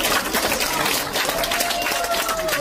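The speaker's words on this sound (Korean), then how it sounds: "여러분 박수 한번 주십시오" Audience applause at a speech, dense continuous clapping from a sizeable crowd, loud and sustained throughout.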